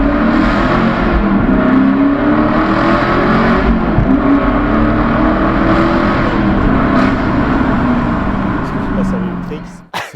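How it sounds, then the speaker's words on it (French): Chevrolet Camaro V8 engine and exhaust droning loudly and steadily from inside or beside the car, with rising and falling rev swells throughout and people talking over it. "tu sens que c'est vraiment un son d'une bonne ligne d'échappement"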